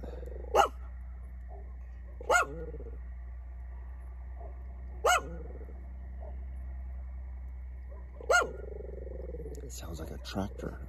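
A dog barks four times outdoors at night, single sharp barks spaced a couple of seconds apart at moderate distance over a steady low rumble, with a brief shuffle of handling noise at the end.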